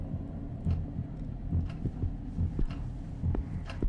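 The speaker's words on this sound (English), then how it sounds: "my heartbeat's going up" Heartbeat effect in the horror game Escape the Backrooms, after the lights go out: a low, steady thumping pulse repeating about every half second, heard alone under a faint hum.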